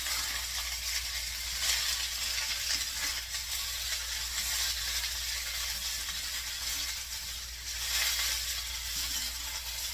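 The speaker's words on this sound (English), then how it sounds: "we'll get this all stirred" Kielbasa, potatoes and corn with onion powder are stirred in a skillet, giving a steady low sizzle with faint scraping strokes over a constant hum, no talking.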